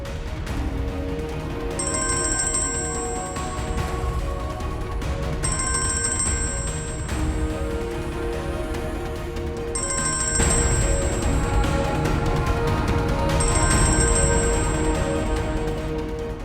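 A telephone rings in a room during a drama scene, with four bursts of a high electronic trill spaced about four seconds apart, under a steady background tone and no talk.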